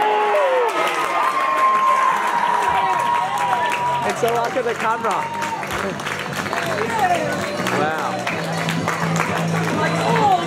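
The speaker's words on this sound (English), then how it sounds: "Crowd goes crazy. Everyone's on their feet." A football crowd at an Australian NPL 1 match cheers and applauds loudly and continuously throughout, with shouts rising from the stands while someone talks over the noise.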